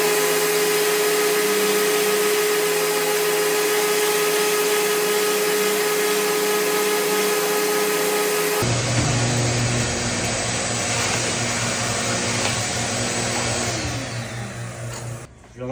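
A drill press bores the final hole in a bowling ball, its motor humming steadily and loudly for the whole stretch, the cutting tone shifting partway through before winding down.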